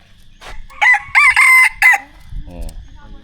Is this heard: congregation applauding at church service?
no